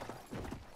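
Horse hooves clip-clopping in the video game Battlefield 1, a quick run of soft galloping beats heard at low level in a brief burst, with a faint voice in the background.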